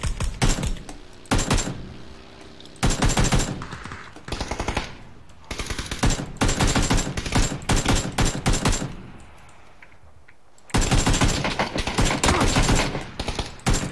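Loud bursts of rapid automatic gunfire from the battle royale video game PUBG, several long rattling volleys separated by short pauses, close and dominant with no talk over it.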